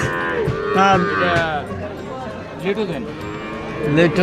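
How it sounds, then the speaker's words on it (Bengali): Calves and cattle at the Hazratpur livestock market, with several loud, close moos rising and falling over a busy crowd murmur, and someone talking throughout. "প্রথমে পড়তেছে আপনার ছোট ছোট বাছুর"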